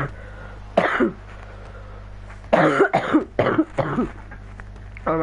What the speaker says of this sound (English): Oh, my cough.